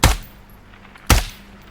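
Two loud, sharp gunshots in the tactical shooter Ground Branch, about a second apart, each a single close crack with a short decaying tail.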